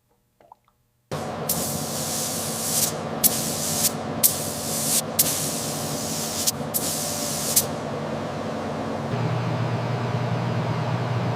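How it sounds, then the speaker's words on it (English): Black paint spray-gunned onto the fenders of a 1902 Stanley Steamer, a loud steady hiss broken by several brief pauses, with a low background hum that continues after the spraying stops. "The 1902 Stanley Steamer fenders received their first coat of original black paint"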